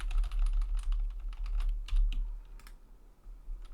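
Keys on a computer keyboard are pressed in quick irregular bursts of close, crisp clicks over a low steady hum, thinning out toward the end.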